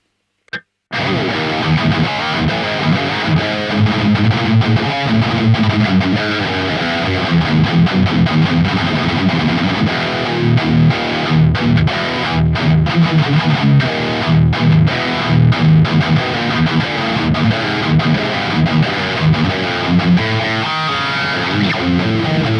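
Heavily distorted electric guitar chugs palm-muted riffs through the Neural DSP Archetype: Gojira plugin at default settings, in tight rhythmic bursts, loud and saturated, with brief gaps between phrases.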